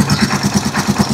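A Rusi Chariot 175 motorcycle idling close by, its engine pulsing in an even, rapid beat.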